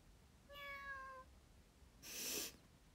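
A human voice imitates a single cat meow, clear and close, followed by a short burst of breathy noise like an exhale or sneeze.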